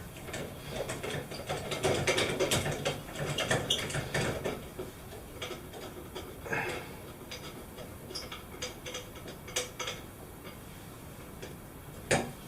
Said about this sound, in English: take this trim plate off. Again, it's a Phillips screwdriver.